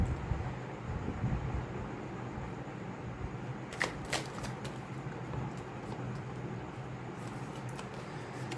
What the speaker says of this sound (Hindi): मैं कुछ टैरो कार्ड्स शफल कर लूँगी।